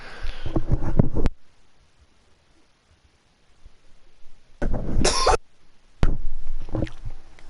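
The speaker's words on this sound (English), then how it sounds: "I'm coughing while I'm muting to test out this new headset." Three bursts of coughing into a headset microphone, close and loud, with short quiet gaps between them and no talking.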